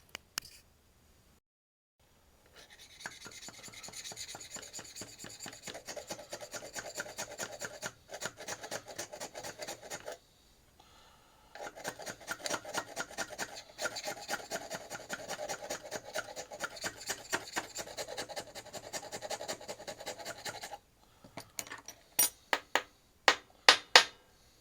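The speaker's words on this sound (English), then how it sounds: "Little piece of round bar so I can scrape the edge." A small round bar scrapes along the edge of a flashlight in long stretches of fast, rhythmic rasping strokes, close and steady with brief pauses, ending in a few sharp metallic taps.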